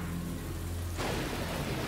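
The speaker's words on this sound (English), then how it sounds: "A lot of rain, and of course with that we got a lot of thunder and lightning" Heavy rain pours during a storm with thunder, a dense, constant hiss with low rumbling underneath that grows broader and louder about halfway through.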